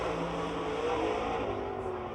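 Dodge Charger race car lapping Pennsylvania Motor Speedway, a steady sustained engine roar at a distance, continuous and fairly loud with no break.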